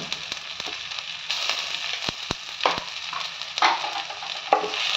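Onion with curry leaves and ginger garlic paste fries in a pan. A moderate sizzle runs under sharp clicks and clatters of a spoon stirring the pan.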